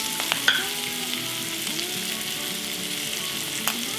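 Vegetables and garlic frying in a cast iron skillet for a vegetable hash, with a steady, even sizzle throughout and a couple of faint clicks and light stirring sounds.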